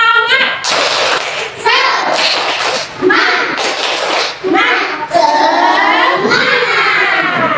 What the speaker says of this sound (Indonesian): Ayo kita tepuk semangat dulu sama-sama